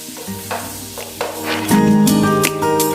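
About ten garlic cloves and ginger frying in butter for butter chicken, a soft sizzle with a few stirring scrapes that grows louder and busier toward the end, no voices.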